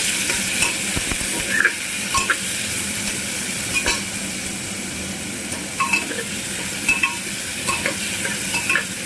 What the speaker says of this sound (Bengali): আলুটা বেশ ভালো করে ভাজা ভাজা করে নেব